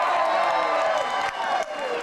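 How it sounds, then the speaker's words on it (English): A crowd at a log rolling contest cheers and shouts steadily, a dense, fairly loud wash of voices that dips slightly near the end. "Who's cheering for Charlie on the green team?"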